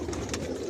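Racing pigeons of a Janssen line coo softly in a loft, a brief low murmur against steady background noise.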